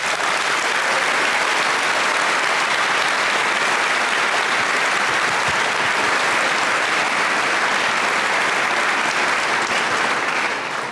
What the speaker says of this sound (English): let's give our classmates, fellows, and scholars of the class of 2017 another round of applause